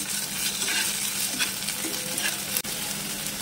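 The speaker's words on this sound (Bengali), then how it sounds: "আদা রসুনটা দিয়েও আবার ভালো করে এটাকে মশলাটাকে কষিয়ে নেব" Ginger-garlic paste and masala fry in hot oil while being stirred for an egg biryani, giving a steady close sizzle with soft scraping strokes and one brief dip near the end, no talking.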